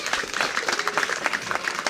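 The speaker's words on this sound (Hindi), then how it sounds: "आप लोग ज़ोरदार तालियों से स्वागत कीजिए ना।" Audience at a school prize distribution for a pre-test, clapping steadily in a dense, even burst of applause with no single claps standing out, fairly loud and continuous.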